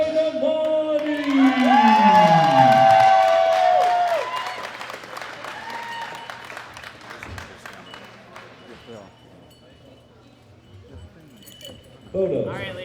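A crowd applauds the gold medal winner at a women's 52 kg world classic powerlifting championship, and the clapping swells loudly before easing off. Whoops and a few clinks sound over a steady low hum, and voices mingle in the background.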